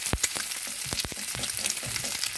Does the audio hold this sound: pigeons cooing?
no